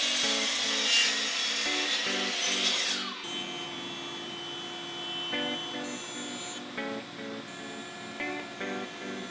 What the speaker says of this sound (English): the first thing I'm going to do is chop the legs into rough length